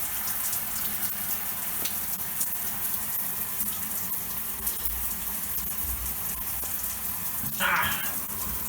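An AquaSpa 30-setting 3-way shower head sprays a steady, hissing stream of water that runs continuously, with a brief louder splashing burst near the end.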